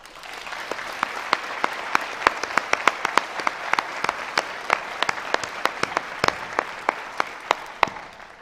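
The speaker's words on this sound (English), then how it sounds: "Please join me in recognizing these students with your applause." A graduation commencement audience claps steadily throughout, a dense, sustained round of applause with sharp individual claps standing out, no voices.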